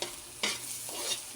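Garlic sautés in a hot pan with a continuous bright sizzle, and a spatula stirs through it in three short scraping bursts.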